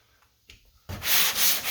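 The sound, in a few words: hand sanding Bondo body filler on a car body line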